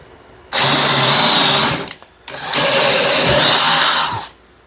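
Power drill boring holes in wood for a homemade wine bottle rack, two loud sustained whining bursts of about two seconds each separated by a short pause, close up with no talk.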